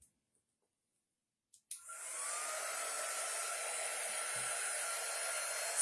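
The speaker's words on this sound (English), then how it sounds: "Now I have my dryer. We're going to dry this a little bit." Hair dryer switching on after a brief click and quiet, then blowing with a steady, loud, airy whir that continues without a break.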